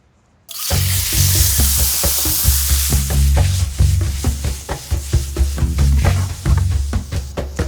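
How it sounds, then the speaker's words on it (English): Beets tossed with olive oil and salt hit hot cast iron in a wood-fired oven, bursting into a loud, dense sizzle that continues with crackling pops and scraping. "we'll throw them right in the cast iron and just put a little char on them"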